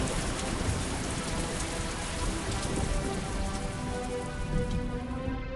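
Heavy rain pours steadily at night over a farm field, a dense, even hiss of drops on surfaces with no voices.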